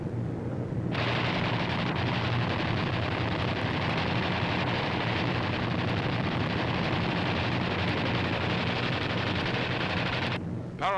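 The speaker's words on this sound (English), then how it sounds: "Parafrag and delayed action bombs are dropped on the airfield and the dispersal areas." Parafrag and delayed-action bombs bursting across a Japanese-held airfield and its dispersal areas under a low-level B-25 attack, heard as a dense, continuous roar of overlapping blasts and rumble that stays loud and unbroken from start to end.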